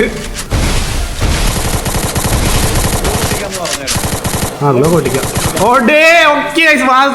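Rapid automatic gunfire in the Free Fire battle royale game, a dense loud burst chipping through a gloo wall, followed by short sharp shots and game effects with a voice talking over part of it.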